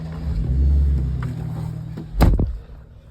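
A 2024 GMC Sierra 1500 AT4 truck with a kill switch fitted starts up: a low background hum, then a brief sharp crank that catches into a smooth, quiet idle rumble.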